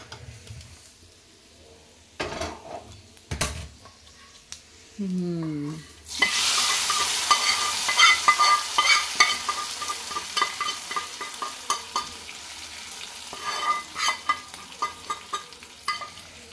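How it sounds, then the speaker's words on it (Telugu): Hot oil tempering is poured into gongura chicken curry, bursting into a loud, steady sizzle with crackling pops that carries on for about ten seconds, after a few clinks and taps. "ఇప్పుడు మనము పోపు వేసేసుకున్నాం దీంట్లో కర్రీలో"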